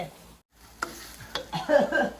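Pork belly and curry paste frying in a hot pan, with a few short sizzles and the scrape of stirring building toward the end, close and fairly quiet.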